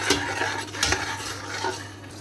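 Mutton yakhni pulao with ginger-garlic paste being stirred in a pot: a few scraping, clinking strokes of a spoon against metal over a steady low hum, close and moderately loud, no talking.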